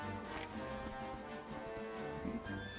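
Hooves clop lightly and rhythmically from a horse in Dragon Quest XI, faint and set against a sustained musical backdrop.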